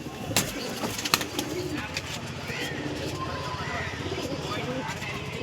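Punjabi pigeons, a male and a recently laying female, coo softly while someone talks over them, with a few sharp knocks and rustles near the start.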